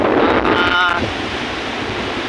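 Growing sea waves and gusty wind on a beach produce a broad rushing wash with microphone buffeting. A brief voice comes in near the start before the surf and wind carry on alone.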